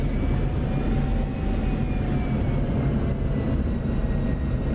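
An F-16 Viper in the DCS flight simulator lowers its landing gear while the jet engine holds a steady, loud, close droning roar with a faint high whine and no break throughout.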